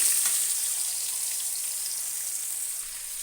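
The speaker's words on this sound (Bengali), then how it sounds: "এবার ওই তেলে আমি একে একে আলু আর কাঁচা কলাগুলো দিয়ে দেবো। দিয়ে একটু হালকা ভাজবো।" Potatoes and raw plantain pieces fry lightly in hot oil for a singi fish curry, making a close, even high sizzle that fades slightly toward the end, with no voices.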